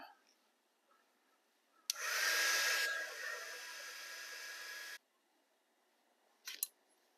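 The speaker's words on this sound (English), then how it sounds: "I'll just use my heat gun to shrink those up." A heat gun blows a steady broadband hiss for about three seconds, louder at the start, while shrinking heat-shrink tubing on a model railway water tank; a couple of short clicks follow afterward.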